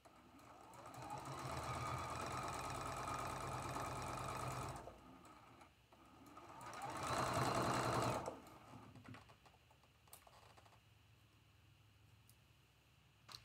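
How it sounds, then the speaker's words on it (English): A sewing machine stitches a quarter-inch seam on a traditional Bear Tracks quilt block, running in two steady whirring bursts of a few seconds each, separated by a pause and followed by quieter handling clicks, with no voice. "And sew this seam with a 1/4 inch seam allowance."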